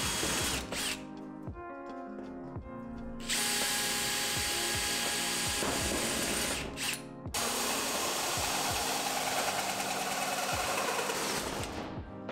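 A 3.5 inch hole saw on a drill bores through material while building a 212cc mini pit trike, a loud steady grinding whine broken by short pauses near 1, 3.5 and 7 seconds, then the cut resumes close up.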